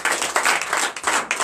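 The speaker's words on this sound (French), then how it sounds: "Donnez l'acclamation à notre Seigneur" Church congregation at a Sunday worship service clapping in acclamation, a dense, brisk burst of many hands with a few rhythmic surges, close and loud, with no talking.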